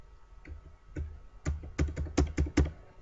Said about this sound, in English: I want to type on this